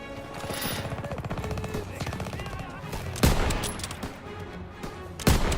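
MG42 machine gun in the World War II shooter Call of Duty WW2 rattling out rapid bursts amid other game gunfire, with two sharp louder shots cutting in near the end.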